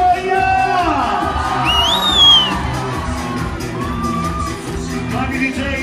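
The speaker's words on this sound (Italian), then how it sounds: "Me lo fate un urlo di gioia!" A bar crowd lets out loud, joyful shouts and whoops, with high cheering voices rising over a dense, continuous roar of many people.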